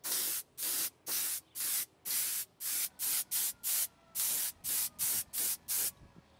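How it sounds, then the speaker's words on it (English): Spray gun spraying creature cast at 90 psi outdoors on a warm day, in a steady series of short hissing bursts, about a dozen trigger pulls in close rhythm, loud and near with no talk. "So I'm spraying the creature cast at 90 psi."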